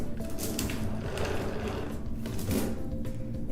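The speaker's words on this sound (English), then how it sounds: "check the free chain function by pulling the chain through the hoist in both" Hand-operated chain hoist with its chain being pulled through freely, giving a fast continuous rattling clatter of links, close and steady throughout with no voices.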